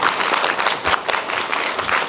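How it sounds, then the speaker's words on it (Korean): A cinema audience at a special screening and Q&A session claps in a brief, steady burst of applause from many hands, close and fairly loud, with no speech over it. "지금 치는 박수는 여러분께 친 박수입니다."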